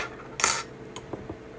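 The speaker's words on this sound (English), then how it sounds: "So I'm going to stir that around a little bit." A spoon clinks against a container while stirring warm water for fry bread dough: a few sharp metallic taps, one louder than the rest, in a quiet indoor kitchen.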